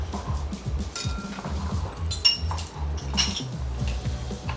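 Alkaline wheat noodles with vinegar, egg and soy sauce being mixed in a bowl, with rapid repeated clinks and scrapes of metal utensils against the dish, close and busy, in a restaurant setting.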